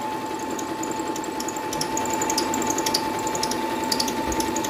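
A multi-purpose sewing machine stitches steadily with a continuous mechanical whir and a fast, even rattle, running without pause throughout.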